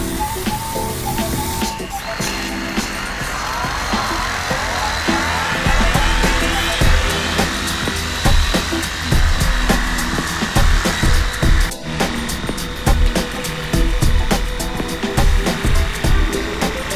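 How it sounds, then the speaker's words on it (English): A Xiaomi portable cordless pressure washer runs with a steady motor whine and hissing water spray, close and loud, with pulsing stutters as the trigger is worked on and off near the end. "This is how I would use the washer."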